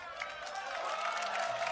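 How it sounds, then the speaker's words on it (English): Esports arena crowd at a League of Legends match, 100 Thieves versus Cloud9 in LCS Summer 2019, cheering and applauding as a steady, dense roar that holds across the short moment. "the crowd cheers for another pause"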